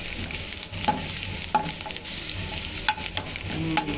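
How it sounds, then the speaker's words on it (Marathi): Garlic and curry leaves frying in hot oil, a continuous soft sizzle broken by sharp stirring scrapes and clinks of a spoon against the pan, close and alone. "लसूणाला मस्तपैकी आता कडक क्रिस्पीपणा येण्यासाठी थोडं चांगला फ्राय करून घेऊ. कढीपत्ताही फ्राय होतो बघा."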